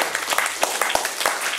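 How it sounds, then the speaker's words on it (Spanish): An audience applauds after a Spanish-language speech, with dense, continuous clapping and a few sharper claps poking through, filling the whole moment at close range. "Y aplausos para todos"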